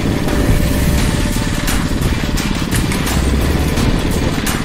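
A motorized bicycle's small engine buzzes loud and close, steady and rattly throughout a ride on an old bike trail in Houston, Texas, with no talking.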